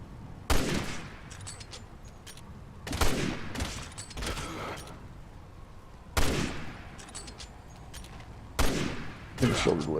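Gunfire in the video game Resident Evil 6: loud bursts of shots strike in five separate volleys over about ten seconds, each cracking sharply and then trailing off.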